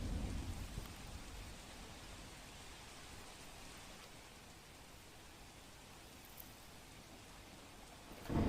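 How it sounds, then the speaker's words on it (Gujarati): Unseasonal light rain falling in Surat, a faint, even hiss of drizzle that holds steady for several seconds, with a low rumble at the start and a brief swell at the very end. "સુરતમાં વહેલી સવારથી ક્યાંક ધીમી ધારે વરસાદ નોંધાયો છે"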